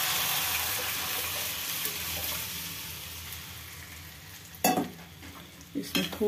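Curry with turmeric is stirred in a pan, a soft continuous sizzle and scraping that holds steady, then a few sharp clatters of the spoon near the end.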